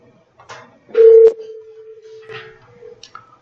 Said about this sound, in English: you can hear the phone is ringing